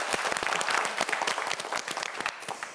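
Applause from a studio audience on a TV quiz show for a student contestant, moderately quiet with distinct individual claps audible in an uneven patter that thins toward the end.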